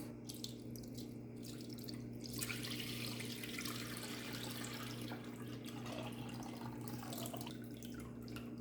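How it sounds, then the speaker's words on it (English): Rendered beef tallow strains through cheesecloth, giving a soft, close trickle and patter of liquid that runs steadily and swells after a few seconds, with no talking. "let's strain this through the cheesecloth."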